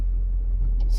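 A Renault Wind with the 1.6-litre Twingo RS engine drives along, giving a steady, close, low engine rumble with no voices.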